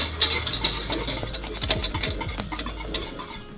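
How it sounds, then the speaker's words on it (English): Hot custard for Paris-Brest crème mousseline is whisked constantly in a pan. A busy, close scraping and rattling of the whisk against the pan runs without pause, fairly loud and with no speech. "pour the custard back into the pan, and then whisking constantly, cook until"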